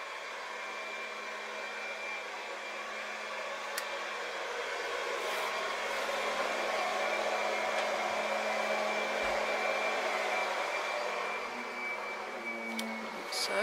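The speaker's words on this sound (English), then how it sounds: "my mum hoovering" A household vacuum cleaner runs steadily indoors, a continuous whirring motor drone at even loudness throughout with no speech over it.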